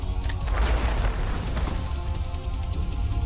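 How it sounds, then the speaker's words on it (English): A grenade blast in the sci-fi strategy game Age of Wonders: Planetfall, a dense, rumbling boom that fills the whole short stretch with heavy low-end roar and crackle. "Throw a grenade at them."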